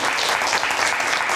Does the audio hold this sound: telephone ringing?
no